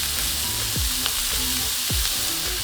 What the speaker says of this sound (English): Add all the beef in together and turn on each side until cooked all the way through.